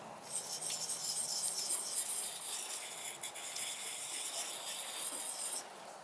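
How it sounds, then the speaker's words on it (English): A Benchmade automatic knife blade being honed, giving a quiet, continuous high-pitched rasping and rubbing with short strokes blending together, close and faint, with no talking. "Maybe if I hone it just a little bit more."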